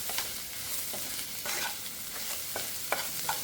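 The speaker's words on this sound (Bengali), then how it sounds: "এটা আরো ভাজা হবে।" Chopped vegetables for chow mein sizzle in a hot pan while a spatula stirs and scrapes them, a steady fry broken by short scraping strokes, close and moderately loud with no talking.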